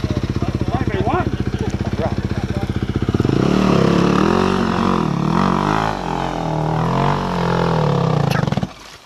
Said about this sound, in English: It's starting to look like 20 bikes have been through here, Fab, but it's only been 11.